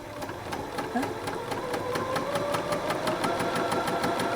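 A sewing machine runs steadily at close range, stitching pieces of a pinwheel quilt block with a rapid, even needle rhythm, and no talking is heard.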